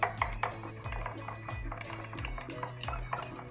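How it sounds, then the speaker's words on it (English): A utensil stirs dinner with oyster sauce in a pan, making quick, rhythmic clanks and scrapes against the metal, close and fairly loud. "Then we stir it."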